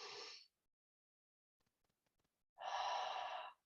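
Two deep audible breaths, one brief at the start and a longer one after a quiet pause, close and soft with an airy rush, during a guided settling breathwork practice.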